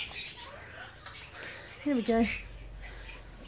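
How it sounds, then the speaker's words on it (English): Quail and parrots in an aviary give small high chirps and tweets at a moderate distance, while someone speaks briefly nearby. "Plenty of birdies in there."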